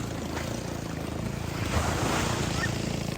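Surf at Paradise Island Resort beach in Samal, Davao, a steady broadband wash of waves rolling in with a low rumble, continuous and fairly loud with a swell in the middle.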